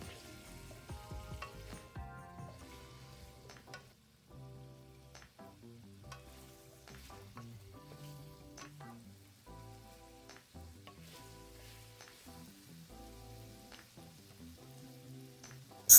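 Mixed vegetables for lumpiang hubad stir-fry in hot cooking oil in a pan, giving a steady sizzle with stirring scrapes, partly under background music.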